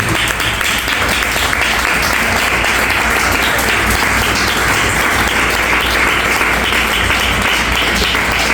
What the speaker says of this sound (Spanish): Si usted lo cree, denle un fuerte aplauso al Señor.